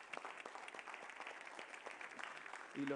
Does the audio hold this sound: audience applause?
yes